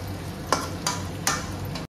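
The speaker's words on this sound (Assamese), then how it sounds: "মাংসটো 15-20 মিনিটমান সময় এনেকৈ ভাজি ল'ম আৰু।" Chicken meat frying in a pan for a gravy dish, a steady soft sizzle broken by three distinct scraping stirs of a utensil against the pan, close and fairly quiet, no talk.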